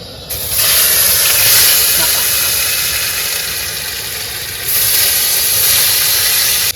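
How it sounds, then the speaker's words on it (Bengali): Potatoes frying in hot oil, cooked outdoors at night beside a Sundarbans river, give a loud, steady broadband hiss and crackle that swells again near the end. "এবার এই তেলে প্রথমে আলুগুলো দিয়ে নেবো"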